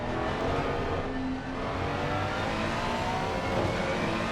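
A Ferrari race car in a sim racing game at Barcelona-Catalunya accelerates under traction control, its engine a loud, sustained rising whine with a brief dip partway through.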